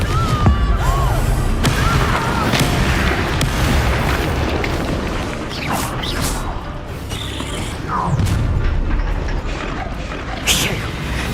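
Confringo blasting spell in the Hogwarts Legacy video game, a booming magical explosion and crash mixed into dense, continuous battle effects and a game character's voice throughout.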